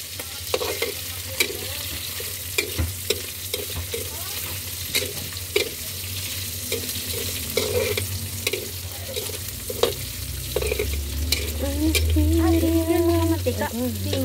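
Oil heats and sizzles in a pan at the start of cooking pinakbet, a steady close frying hiss with repeated utensil clinks and scrapes, a low hum beneath, and faint voices briefly in the background.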